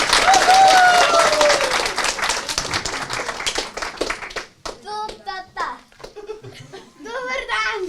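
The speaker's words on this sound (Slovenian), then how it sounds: "pa kar en aplavz" Lively applause and clapping from a young improv theatre audience, loud at first and then fading as children's voices and chuckles take over, with a whistle-like tone early on.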